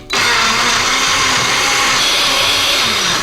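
A blender whirs loudly and steadily as it churns a Blue Hawaiian frozen cocktail with ice, the motor kicking in abruptly and running without pause.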